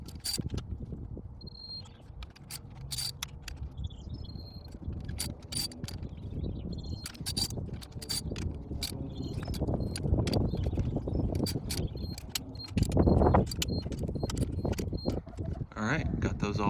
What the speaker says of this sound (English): Here we have the torque wrench set up and ready to go at 16 foot-pounds.